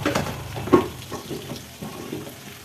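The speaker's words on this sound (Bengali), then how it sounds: "তো সবার প্রথমে আমি আলুগুলো ভেজে নিচ্ছি।" Potatoes fry in hot oil in a pan for chicken kosha, giving a soft sizzle broken by a few sharp clinks of stirring over about three seconds.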